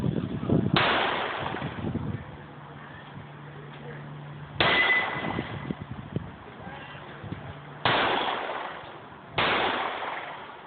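Pistol shots at a personal protection pistol match on an outdoor range, four sharp loud cracks spaced apart with lighter clanks between, and a voice speaking in the pauses.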